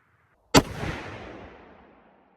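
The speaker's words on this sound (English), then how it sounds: "we're gonna shoot the Hornady Roundnose." A single rifle shot from a 6.5x55 Swedish firing a heavy Hornady round-nose bullet, a sharp, loud crack followed by a long, fading outdoor echo, with no talking.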